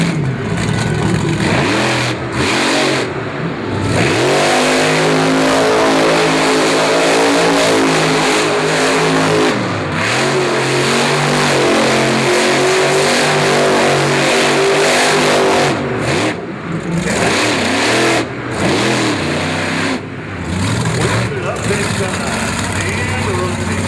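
The Bigfoot monster truck's engine roars and revs steadily through a freestyle run at a 4-wheel jamboree nationals in Indianapolis, loud and close with brief dips between surges, under an announcer's talk.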